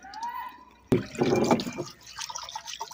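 Water from a tap at a rural Punjabi family home in Pakistan splashes and trickles after a sharp initial hit, a close, uneven wet patter that fades slightly at the end.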